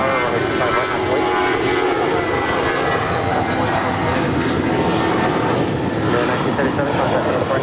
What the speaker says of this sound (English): That is United 1977 departing to San Francisco. That is an A320.